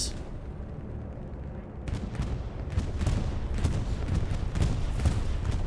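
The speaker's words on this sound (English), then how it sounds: "It's a bombing run" Artillery shells and bombs pound the front line in a Hell Let Loose tournament match, a steady barrage of deep, overlapping booms and rumbling blasts that swells louder after the first couple of seconds.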